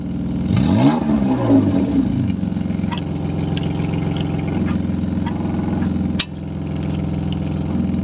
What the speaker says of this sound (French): Mets les coups de gaz.